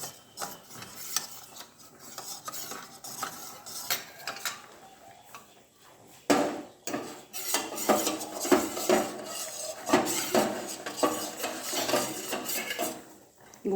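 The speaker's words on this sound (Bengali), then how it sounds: "দেখো গুলে নিচ্ছি।" A spoon scraping and clinking against a metal pot while ingredients are mixed and dissolved with a little water for chicken soup, giving steady busy clatter that grows louder and denser in the second half, with no talking.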